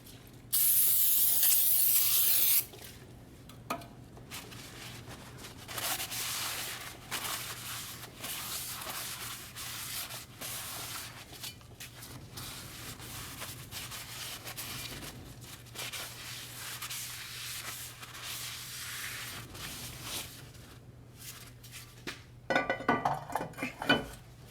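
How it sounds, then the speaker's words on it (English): Brake cleaner sprays in a loud, steady hiss for a couple of seconds onto a brand new rear brake rotor for a Mercedes / Dodge Sprinter, followed by quieter clinks and handling sounds. "we're gonna clean our brand new rotor before we install it"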